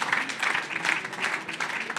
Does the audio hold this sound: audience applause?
yes